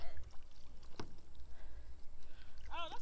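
A kayak paddled on water, with soft intermittent splashes and water movement, faint and close, while people talk and a high voice exclaims near the end.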